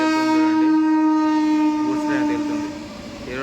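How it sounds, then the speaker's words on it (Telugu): At a railway crossing, a passing train sounds a long, loud harmonic horn blast close by, sustained for a few seconds before fading, with rumbling rail noise beneath. "ఇప్పుడు ట్రైన్ అయితే వస్తుంది ఆ ట్రైన్ వెళ్ళినాక వెళ్ళాలి"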